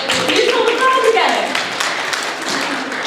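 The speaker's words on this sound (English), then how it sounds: "Give yourselves applause." A children's orchestra claps for itself, a busy patter of small hands in a room, mixed with a few lingering instrument tones and chatter at the start before the clapping thins.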